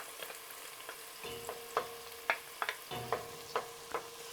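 Garlic sizzles in a pan as a bean stew with smoked meat is cooked, a steady soft frying hiss broken by repeated light scraping stirs at an uneven rhythm.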